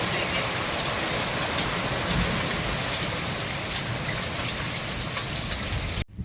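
Heavy unseasonal rain pours down in a dense, steady hiss of drops on surfaces, loud and unbroken throughout with no voices, cutting off abruptly at the end.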